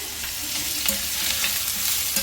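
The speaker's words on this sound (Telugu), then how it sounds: "ఆనియన్స్ని కంప్లీట్గా మంచిగా బ్రౌన్ వచ్చే వరకు రోస్ట్ చేసుకోవాలి" Onions fry and sizzle steadily in a pan for gongura chicken curry, a dense continuous crackle with a few soft stirring scrapes, close and alone with no talk.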